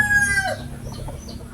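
A backyard rooster crows near the microphone while hens cluck around it; the crow's strong opening gives way to a steady, scattered clucking from the flock for the rest of the moment.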